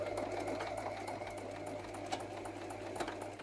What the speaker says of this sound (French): On va coudre dans ce sens et puis on va bien voir.